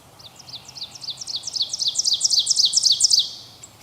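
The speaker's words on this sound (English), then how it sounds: "The second ovenbird will join in so quickly that oftentimes it'll sound like just one bird is singing." Two ovenbirds sing close together, their loud, clear, rapidly repeated chanting phrases overlapping so they run together like a single song that grows stronger and then stops abruptly.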